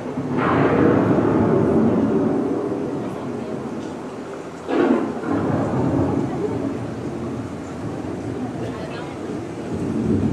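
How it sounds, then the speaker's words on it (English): Thunderstorm with rolling thunder and rain at Epcot, a loud sustained rumble opening the clip with a second sharp crack near the middle, over a constant wash of rain and a narrating voice. "The approaching storm may seem violent and destructive to us"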